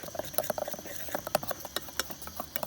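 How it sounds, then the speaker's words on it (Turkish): Quiet, irregular bubbling and popping of sugar syrup boiling in a pot, with small plops scattered unevenly over a soft background hiss. "şerbet kaynıyor."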